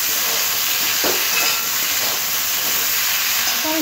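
Chopped vegetables and beans sautéing in a pan give a loud, continuous hissing sizzle with faint stirring scrapes, close up and with no talk.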